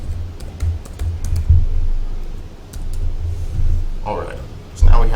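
Close computer keyboard typing in quick irregular bursts of clicks, with a person speaking over part of it.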